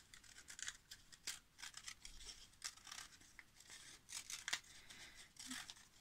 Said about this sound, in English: I'm gonna take my scissors, cut this now.